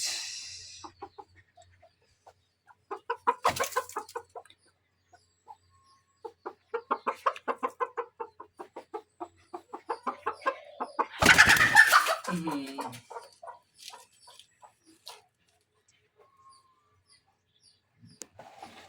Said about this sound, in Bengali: মুরগি ডিম পাড়ার জন্য আসছে।